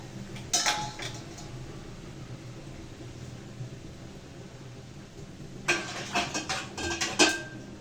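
Metal utensil clinks and scrapes against a pan on a stove, in two short bursts separated by a quiet stretch with low background hum.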